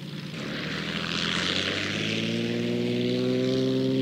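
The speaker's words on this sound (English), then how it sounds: "As the Ghostbusters plane flew off" A propeller airplane drones steadily as it flies off, its engine tone rising and swelling in loudness over a few seconds with no talk.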